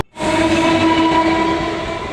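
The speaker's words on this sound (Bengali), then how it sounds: "ট্রেনের হর্ন সম্পর্কে ভিডিওটি দেখাবো" A train horn sounds one loud, steady, tonal blast lasting about two seconds, starting abruptly and fading slightly toward the end, with no voices.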